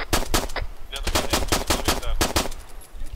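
A rapid run of loud, sharp gunshots in the video game Arma 3, fired in quick bursts with brief gaps, close and punchy.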